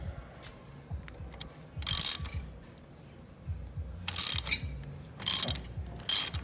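A wrench ratchets against a 3/4 inch hydraulic hardline fitting on a lowrider hydraulic pump setup, giving loud, close clicking bursts of ratchet pawl, four or so short runs separated by brief pauses, with no talking.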